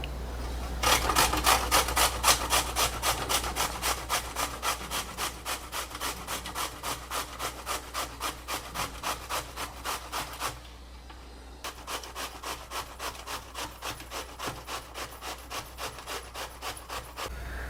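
Bottle gourd (dudhi) rubbed on a grater in fast, even rasping strokes, close and steady, with a brief pause about two-thirds through before the scraping picks up again; no voices.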